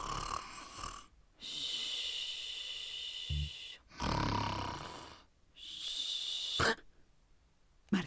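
Snoring rendered within a read-aloud Spanish children's story, several long rasping, wheezy snores separated by short silent gaps, close and fairly quiet.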